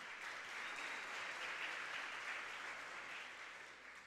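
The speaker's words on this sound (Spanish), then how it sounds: "Fuerte el aplauso." Continuous clapping from an audience at a regional oratory competition final, even and sustained, tapering slightly at the end.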